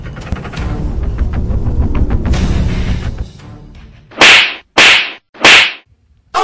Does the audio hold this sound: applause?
no